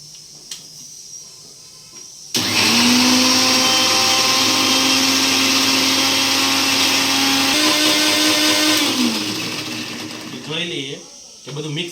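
A kitchen mixer grinder blends pani puri spice masala with water: a loud, steady whirring roar that starts abruptly, holds for several seconds and then winds down, with brief voices before and after.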